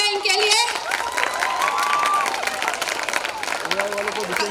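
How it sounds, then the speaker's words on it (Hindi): Audience applause and cheering at a school debate competition, loud continuous clapping from a crowd with a voice speaking over it through most of the stretch. "जोरदार तालियां इनके लिए।"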